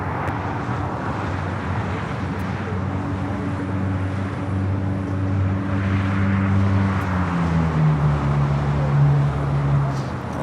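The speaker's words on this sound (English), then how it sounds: "We do have that Hawaiian Dreamliner rolling down the 25 right here on the south side." Hawaiian Airlines Boeing 787-9 Dreamliner rolling down runway 25 on the south side at LAX, a loud steady engine roar with a low droning hum that slides downward in pitch, heard from a distance across the airfield.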